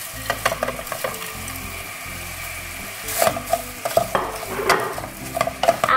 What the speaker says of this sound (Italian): una volta che la salsiccia avrà cambiato colore possiamo andare ad